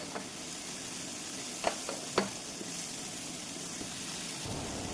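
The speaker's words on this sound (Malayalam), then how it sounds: "സവോള ഒന്ന് നന്നായിട്ട് വാട്ടി എടുക്കണം." Onions sauté in a pan for a fish gravy, giving a steady soft sizzle with a few sharp clinks of a stirring spoon against the pan. No one speaks.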